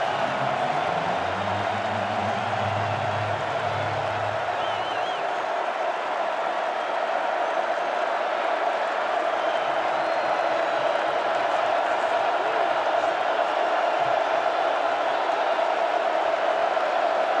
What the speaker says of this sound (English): And this crowd amped early